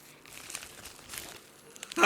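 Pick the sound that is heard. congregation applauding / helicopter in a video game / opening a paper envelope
opening a paper envelope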